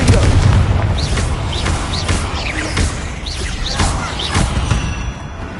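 The Confringo blasting spell goes off in Hogwarts Legacy, a string of loud, close booms and bursts in quick succession, each ending with a short whistling crackle.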